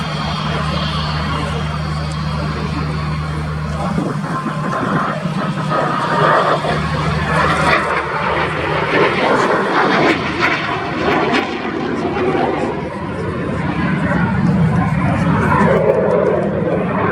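A BAC Strikemaster Mark 82A jet, built in 1986 for Oman, roars steadily at an air display, its broad engine noise filling the whole stretch with a low drone easing off partway through, and voices faintly mixed in.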